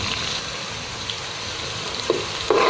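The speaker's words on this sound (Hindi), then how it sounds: "ये हमने प्याज डाले हैं, प्याज को आपने ब्राउन कर लेना है" Onions frying in a pan for a cucumber curry, a steady close sizzle with faint stirring clicks near the end, no talk.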